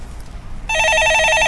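A studio telephone starts ringing abruptly during a stock-market call-in show, a loud, steady electronic trill that continues to the end without pause.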